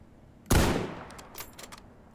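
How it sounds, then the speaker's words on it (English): A rifle in S.T.A.L.K.E.R. G.A.M.M.A. fires one sharp, loud shot that rings out into a decaying tail, followed by faint clicks. "Let's give my new rifle a try."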